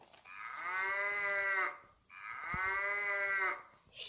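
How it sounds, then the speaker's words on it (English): Two long, drawn-out cow moos in succession, each lasting over a second with a short pause between, clear and close with no talking over them. "cow,"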